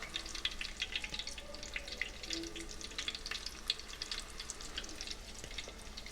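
Beer-battered Alaskan halibut frying in a pot of oil, a soft continuous sizzle with fine crackling pops throughout, quiet and steady with no voices.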